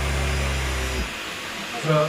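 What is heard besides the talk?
Hoover H Upright 500 Plus vacuum cleaner running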